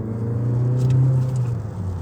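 A Mazda 3 hatch with a 2-litre mild hybrid petrol engine is revved out on the road, giving a steady, loud, close engine drone that swells slightly as the revs hold, with no talk.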